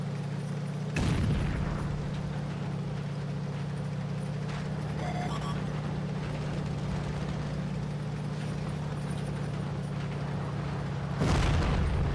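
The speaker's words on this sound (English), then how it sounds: "I actually survived an HE round there" A heavy high-explosive shell impact in World of Tanks against a WZ-111G FT tank destroyer, a sharp boom over a constant engine rumble, followed by a second loud impact near the end.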